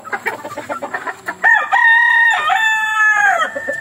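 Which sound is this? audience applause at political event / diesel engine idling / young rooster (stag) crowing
young rooster (stag) crowing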